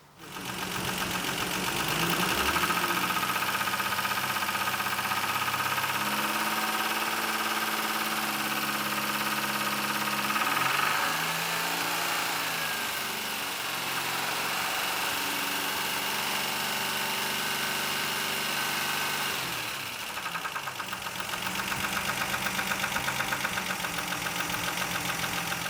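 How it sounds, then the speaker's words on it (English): A Ford Granada 2.8i V6 engine idles steadily, then is revved up to about 2000 and 3000 RPM in held steps before dropping back, loud and close with no talking. "I will increase the engine speed to 2000 RPM and then 3000 just to see"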